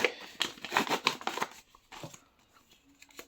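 Paper crinkles and rustles as a small paper surprise packet is torn and opened, a busy burst of crackling that trails into quieter handling sounds.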